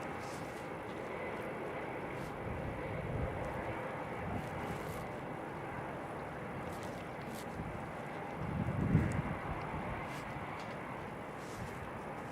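An Emirates Airbus A380 taxiing at Christchurch Airport in snowy weather, a steady broad low engine rumble heard from a distance that swells briefly near the end, with no talking.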